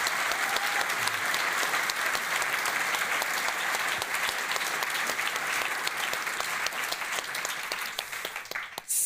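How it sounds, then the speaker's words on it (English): Big audience applause for the finalists of the 2024 SGS Global Essay Competition, loud, dense clapping from a large crowd that holds steady for most of its length before thinning and tapering near the end. "once more a big applause to the finalists"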